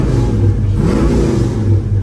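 A 1975 GMC Jimmy's engine, fitted with a Holley Terminator X Max system, rumbles loudly and continuously through its exhaust, holding a deep, steady idle-to-rev growl up close.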